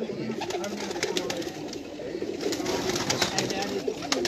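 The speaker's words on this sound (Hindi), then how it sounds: "ये उस्ताद जी के चिड़ियों वाले जो कबूतर हैं" Kept pigeons coo in soft, repeated bursts among steady outdoor bird chatter and a broad background hiss. Someone talks nearby over them.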